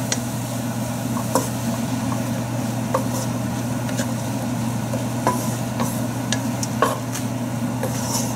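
Ginger garlic paste stirred into a biryani pot, giving a steady close sizzle with scattered scraping stirs and small clicks of the spoon throughout.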